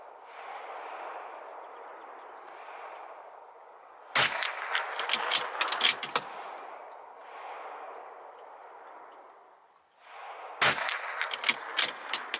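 Two .22LR rifle shots from a Bergara B14R firing Eley Biathlon ammunition, each a sharp report with a short ringing tail, separated by a steady low background hum.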